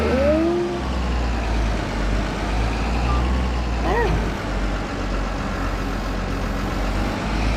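A wheel loader in Farming Simulator 22 drives with a loud, steady engine drone and a few high electronic tones over it, while a person talks on top.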